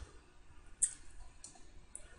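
A computer mouse gives three faint, crisp clicks spaced about half a second apart, close by in an otherwise quiet room with no speech.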